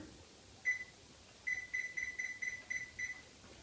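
A kitchen timer being set, giving one short electronic beep followed by a quick run of seven more evenly spaced beeps, close and clear over a quiet room.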